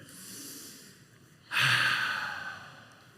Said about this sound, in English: Everybody take a deep breath in.